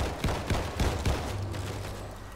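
Gunfire in the zombie shooter World War Z: several rapid bursts of shots in the first second, then a fading rumble, fairly quiet and without clear speech.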